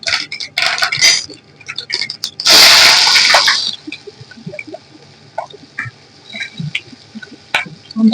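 Onion and brinjal pieces hit hot oil in a pan with a loud burst of sizzling, set among scattered clinks and clatter of utensils and cookware before the frying quiets to a soft hiss.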